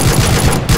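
Rapid gunfire from a first-person shooter video game, a dense continuous burst of automatic fire that stays loud and steady throughout, with no voices over it.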